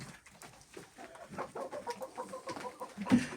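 Laying hens, newly moved from cages, cluck in their new coop with repeated soft, fairly quiet calls and a slightly louder cluck near the end.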